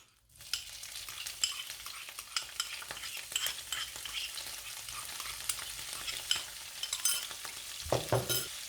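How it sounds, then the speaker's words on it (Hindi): Tuna fish drops into leftover hot oil in a pan and fries with a steady, moderately loud sizzle that starts abruptly, with scattered crackles and a brief utensil clatter near the end. "इसी में ही हम टूना फिश बनाएंगे। तो इसको डाल देते हैं ऑयल में।"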